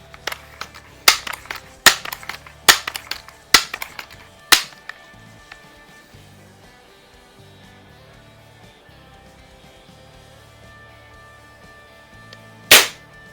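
A Daisy model 880 multi-pump .177 pellet rifle, fired offhand while plinking, gives five crisp snapping shots in a fairly even rhythm, then a pause of several seconds before one last loud crack.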